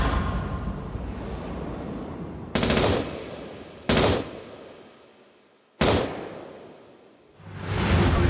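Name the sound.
gunfire in a reenactment of a shooting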